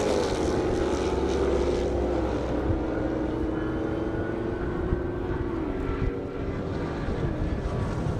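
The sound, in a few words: Mopar cars racing down an airstrip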